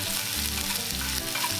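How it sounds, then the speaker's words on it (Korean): Onions and carrot strips stir-frying in oil in a frying pan, a loud continuous sizzle with rhythmic scraping and tossing from stirring, close up and without talk. "그리고 당근을 넣고 볶습니다."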